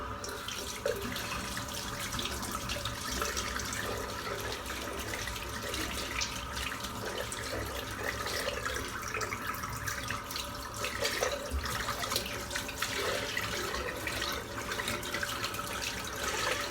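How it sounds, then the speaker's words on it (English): Tap water running and splashing as soap is rinsed from a 28 mm three-band blonde badger shaving brush at a sink, a soft continuous stream with faint dripping and squelching. "All I'm doing now is just getting the soap out of the brush."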